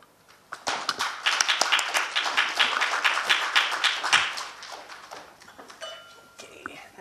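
Conference audience claps to welcome a keynote speaker to the stage, a dense round of applause swelling quickly, holding for several seconds, then thinning out into scattered claps.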